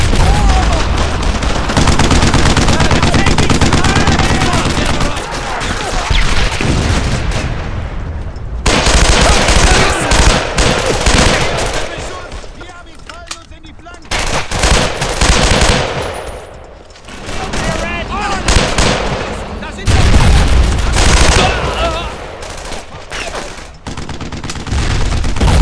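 Heavy gunfire in the World War II video game Brothers in Arms 2, with loud rapid machine-gun bursts and rifle shots that come in dense waves with brief lulls and some shouting mixed in.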